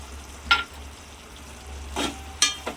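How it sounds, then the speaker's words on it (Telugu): Drumstick and tomato curry with chili powder is stirred in a pan, three brief scraping strokes of a spoon over a soft, steady sizzle, close and without speech. "వీటిని బాగా మిక్స్ చేద్దాము"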